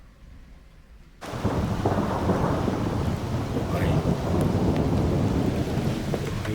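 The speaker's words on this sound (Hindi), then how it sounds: "भाई कितनी खतरनाक बिजली कड़कने की आवाज़ आ रही है।" Heavy rain pours down in a jungle at night, a loud, dense roar that bursts in abruptly after a quiet opening and holds steady, with rumbling thunder beneath it and a brief voice at the start.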